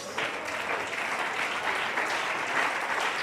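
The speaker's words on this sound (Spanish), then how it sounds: "Si ese aplauso es para Dios," Church congregation applauding during a sermon, a sustained, steady wave of clapping from many hands that swells slightly and holds without talk over it.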